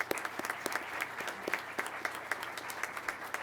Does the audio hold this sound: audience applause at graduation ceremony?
yes